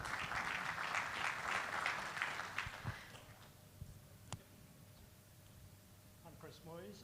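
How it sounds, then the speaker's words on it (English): Applause at a business forum on African oil and gas farmouts, a dense wash of clapping from the audience for the two presenters that fades after about three seconds, followed by a quieter room with a few isolated sounds. "Round of applause for Matt and Mike"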